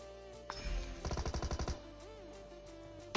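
A battle royale video game fires a rapid automatic burst of about ten evenly spaced shots, preceded by a single louder report, over a low game background.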